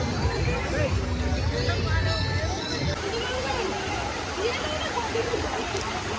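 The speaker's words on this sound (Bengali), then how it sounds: "মাঝখানে ঝর্ণা, ভিউটা কিন্তু খুব সুন্দরই আছে।" A waterfall at Sitakund in hilly terrain pours with a steady broadband rush while a large crowd of visitors chatters throughout, their babble close and continuous over the water.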